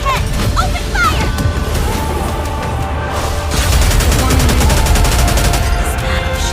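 Heavy gunfire erupts in the mobile shooter Goddess of Victory Nikke: loud, rapid machine-gun bursts mixed with booming blasts, dense and continuous, with voices blended into the battle noise.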